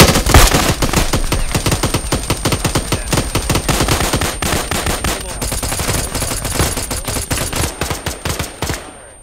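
A firing line of many guns in a video game unleashes a loud, dense, rapid burst of overlapping gunfire that rattles on without pause and tapers at the end.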